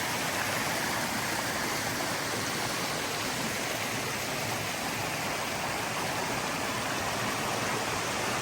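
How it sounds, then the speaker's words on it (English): Steady, full rushing water of a creek flowing close by, continuous and broadband with no voices over it. "This might be the coolest creek or stream, whatever you want to call it,"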